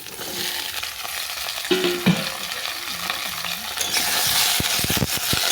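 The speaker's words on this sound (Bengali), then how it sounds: "আবারও কড়ার মধ্যে দিলাম সর্ষে তেল দিয়ে সব সবজিগুলোকে আমি তুলে দিচ্ছি" Vegetables tossed into mustard oil in a wok give a steady broadband frying hiss with stirring scrapes and clinks, rising louder toward the end, with no voices.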